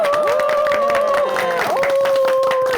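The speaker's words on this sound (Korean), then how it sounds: "다 같이 박수 한번 쳐주세요" Studio audience applauding North Korean Defectors' Day, the new national commemoration, with steady loud clapping throughout, while a sustained tone and sliding musical or vocal lines ring over it.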